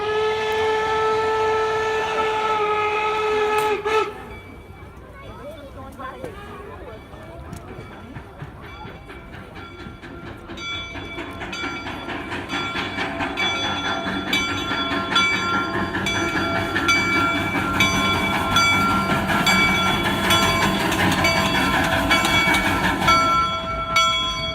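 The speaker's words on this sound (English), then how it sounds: "that clickety-clack, or that sound going over the rails" Steam locomotive No. 119 at a Transcontinental Railroad sesquicentennial reenactment: a steady, loud whistle tone opens, then gives way to rumbling wheels with rhythmic clickety-clack over the rails, building louder and closer, with no talking.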